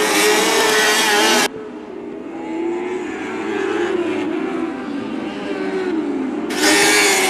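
Lightning sprint race cars roar past on the Macon Speedway dirt track, loud engine blasts at the start and end framing a steadier, more distant drone of cars circling through the middle.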